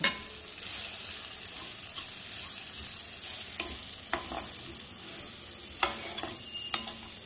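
Turmeric, red chilli powder and garam masala fry in a pan for a home-style dal dish. A steady soft sizzle runs throughout, broken by a few sharp spoon taps against the pan.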